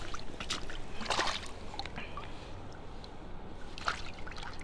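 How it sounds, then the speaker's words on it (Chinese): A clam shell is rinsed by hand in seawater on a beach at low tide, giving a soft trickling and sloshing, with brief splashy bursts near the start and again toward the end. "放水里洗一下啊。"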